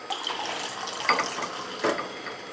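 Water poured into a drinking glass or from a tap at home, a soft steady trickle with a couple of brief splashy surges, fairly quiet and close, with no talking.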